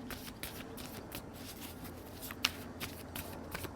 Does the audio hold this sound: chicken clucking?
no